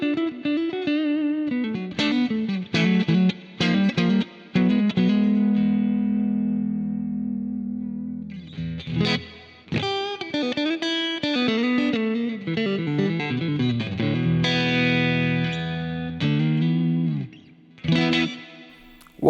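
A Yamaha Pacifica electric guitar played on its neck pickup gives Strat-style tones through effects with distortion, chorus and reverb, mixing sustained chords and short picked phrases with brief pauses between.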